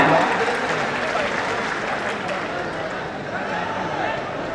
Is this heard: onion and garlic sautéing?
no